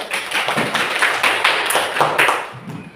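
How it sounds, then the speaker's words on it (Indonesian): A classroom of children claps hands together in a lively burst of rapid, rhythmic applause lasting a few seconds, loud and close. "tepuk tangan dulu."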